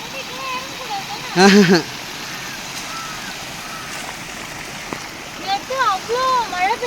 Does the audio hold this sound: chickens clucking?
no